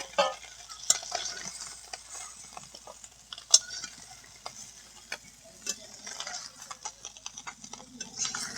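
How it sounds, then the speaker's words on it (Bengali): Fish sizzling and crackling in hot oil, with occasional clinks and scrapes of a utensil stirring the pan, steady and close. "মাছ ভাজা হয়ে গেছে এবার তুলে নেব"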